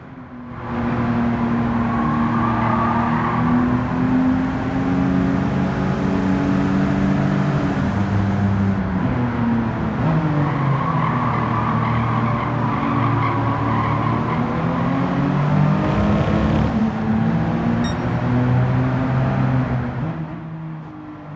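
A BMW E9 CLS in a sim racing game roars continuously at high revs, its engine note rising and falling through gear changes while the tyres squeal and skid loudly through corners, with no talking.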